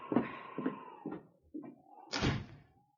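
A door is swung shut and latched in a Yukon radio drama: a few light knocks and shuffles, then one solid closing thud, fairly close, with no voices.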